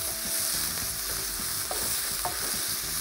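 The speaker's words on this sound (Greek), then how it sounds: "Καθώς ρίχνω μπούκοβο, ρίχνω και όλα τα αρωματικά μου μέσα. Αυτά που θα μου δώσουν γεύση. Και αρχίζω να σοτάρω." Minced chili, dried chili flakes and aromatic spices sizzle in a hot pan for chili con carne, with a steady bright fry and repeated scraping stirs close up, and no voices.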